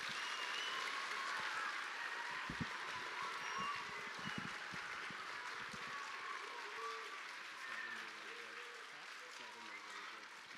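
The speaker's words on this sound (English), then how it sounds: "how about a round of applause as Officer Enger makes his way to the stage." Audience applause at a DARE graduation ceremony, a sustained clapping from a large indoor crowd fading slightly toward the end as a voice begins over it.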